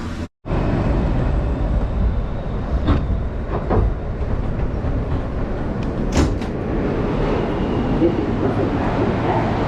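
Steady, loud rumble of a New York subway train in motion, heard from inside the car, with brief clanks and rattles over the continuous rolling noise and some faint voices.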